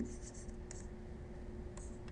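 Pen or pencil scratching faintly on paper while a calculus derivative formula is written out, soft intermittent strokes over a low steady background hum.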